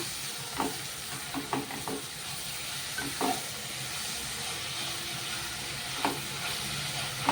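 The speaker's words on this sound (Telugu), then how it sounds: "మెంతికూర వేసుకొని కలుపుకోవాలి ఇట్లా నీట్గా" Fenugreek leaves are stirred into a mutton curry in a pan, giving soft scraping spoon strokes and light clatter over a low, steady sizzle, close by and fairly quiet.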